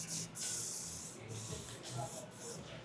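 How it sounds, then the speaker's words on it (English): A can of cold holding hairspray hisses close by in several quick bursts onto a haircut lineup, each spray separated by brief pauses. "Some cold holding spray, and I'm gonna apply it to his lineup."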